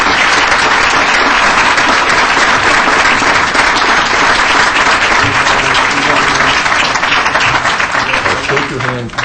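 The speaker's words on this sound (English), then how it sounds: "Come on forward, and let's have a great round of applause." A loud, sustained round of applause from the audience at a city council meeting, continuous clapping throughout, with a few voices beneath it.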